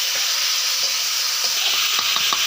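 Chicken meat being sautéed (kosha) in a wok over a high flame, with a steady loud sizzle and a few soft stirring scrapes toward the end, no voices.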